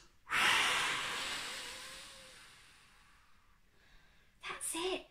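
A voice imitates a great big blow, a loud breathy whoosh that fades away over a few seconds, followed by a short second puff.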